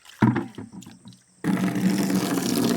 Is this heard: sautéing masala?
no